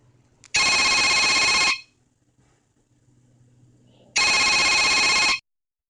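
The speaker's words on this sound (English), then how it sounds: "let's listen to the default ringtone as I press the Ringtone button." Default Android phone ringtone rings in two loud bursts, each a bit over a second long, separated by a few seconds of near silence.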